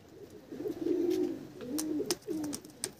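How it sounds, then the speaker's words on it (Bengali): Large desi pigeons in a loft give a few close, throaty coos in separate bursts, with faint clicks and higher chirps between them and no talk. "পায়রা কিন্তু সাইজ খুব সুন্দর আছে, বড় সাইজের পায়রা"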